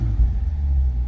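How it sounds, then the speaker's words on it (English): 2023 Chevrolet Corvette 2LT with active valve exhaust, warmed up in normal mode, gives a brief deep engine rumble, steady and close, with no voices. "Give you a couple revs here now that the vehicle is warmed up."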